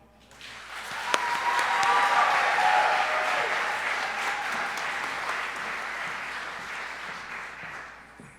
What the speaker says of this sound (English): let's have a round of applause for Nidhi.